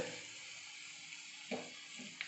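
Ingredients sautéing with a pinch of salt in a pan for spicy chicken curry, a continuous soft sizzle with a few brief stirring scrapes near the end, no voices.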